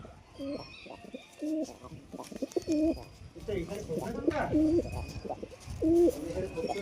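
Punjabi pigeons coo in repeated low, rolling calls close by, several bursts spaced through the stretch, with someone talking over them at times.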